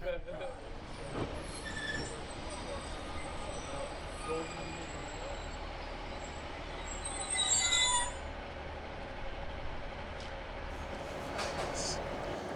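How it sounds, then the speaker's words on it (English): An HST Midland Pullman train rolls straight through St Bees station with steady rumbling and high metallic wheel squeals, some louder squealing midway, and a voice speaking faintly in the background. "here's the northbound train now"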